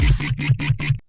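A Serum synth pig-growl bass, with its EQ swept by an LFO and a touch of reverb, snarls in four rhythmic pulses over about a second. Each pulse is loud and gritty, with nothing else audible, before it fades out.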